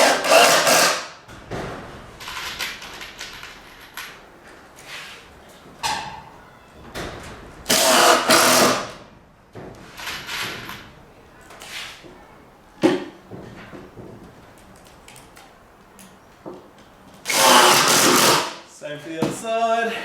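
A power drill drives screws up through the bottom of a plywood gym block, with several loud, close whirring bursts of a few seconds each, separated by knocks, handling noise and a person talking.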